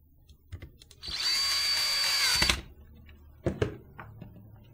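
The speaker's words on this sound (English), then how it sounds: "This will cover up these two screws, so let's put those in." A power screwdriver drives screws into a Bluetooth speaker casing, one steady whir of about a second and a half, close and loud, followed by a few faint clicks and handling knocks.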